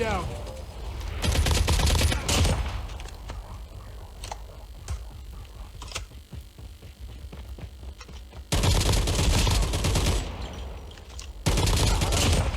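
Gunfire in Call of Duty Mobile: dense, loud automatic bursts of a couple of seconds each, separated by quieter stretches of scattered single shots and clicks, with a voice talking in between.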